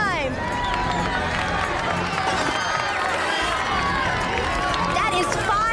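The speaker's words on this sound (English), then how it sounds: "Guys, we got to cheer him on the whole time." A studio audience cheers and shouts continuously for a stunt performer on a 2002 television show, a dense crowd roar with overlapping excited voices throughout.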